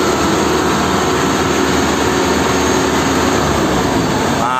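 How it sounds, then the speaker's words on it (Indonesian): A vibro roller's heavy engine roars loud and steady at close range, holding a constant drone before the revs start to drop at the very end. "gas diturunkan dan alat akan dimatikan"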